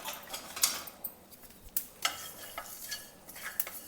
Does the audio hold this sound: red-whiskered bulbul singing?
no